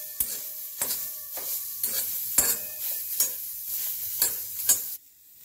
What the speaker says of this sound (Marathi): तेल न टाकता असा कांदा खरपूस भाजून घ्यायचा